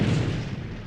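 Photon torpedoes fire in the space game Star Trek Online during a battle with Klingon ships, giving one short, heavy boom that fades quickly.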